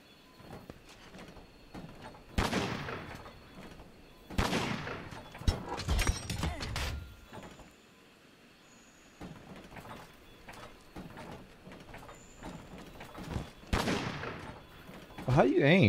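Weapon shots ring out in Monster Hunter World, several loud sharp bursts spaced irregularly with quieter gaps between them, under occasional talk.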